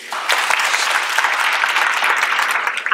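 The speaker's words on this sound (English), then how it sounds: "Can I please ask you to thank our four speakers um, for this session? So a round of applause" A conference audience at a panel session on gender equality and mentoring gives a round of applause for four speakers, dense and loud clapping that holds steady from start to finish.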